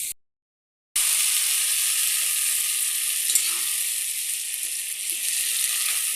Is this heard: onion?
yes